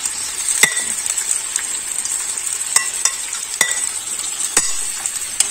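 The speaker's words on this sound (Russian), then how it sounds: "И пусть оно кипит, пусть алкоголь выветривается." A seafood mix for zarzuela cooks in a pan with a steady, bright sizzle, while a utensil stirs it with occasional sharp scrapes and clinks against the metal.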